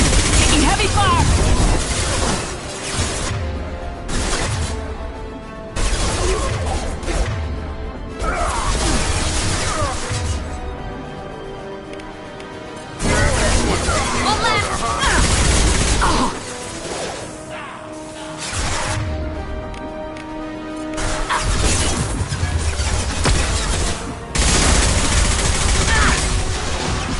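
Heavy gunfire in the video game Mass Effect Legendary Edition: dense, loud bursts of automatic weapons and blasts in long sustained waves, with brief lulls between them and shouted in-game voices over the fire.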